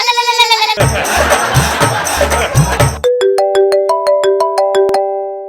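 A loud electronic ringtone plays close by, a short melodic burst, then a noisy musical stretch, then a rising series of bright tones, with no talking.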